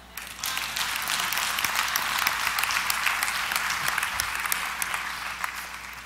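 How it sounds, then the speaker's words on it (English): Steady audience applause at a motivational lecture, beginning about half a second in and holding at an even, dense level to the end, with no voices over it. "Clap."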